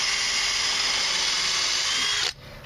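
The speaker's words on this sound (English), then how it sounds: "I've set this to the number 2 setting for drilling" A SEKGHY 20V cordless drill driver on its number 2 drilling setting runs at a steady high whine for about two seconds, loud and close, then cuts off abruptly.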